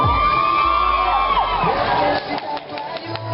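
A crowd at an outdoor beauty contest in Novi Ligure, Italy, lets out a loud burst of cheering, whoops and high shouts that fades slightly toward the end, with voices mixed in.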